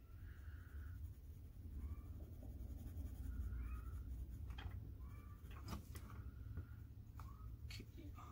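A colored pencil scratches across paper card in steady, repeated layering strokes. It is close and quiet over a low room hum.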